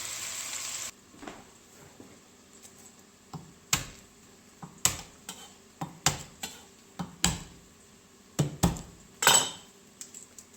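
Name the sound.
chopping garlic and ginger with a knife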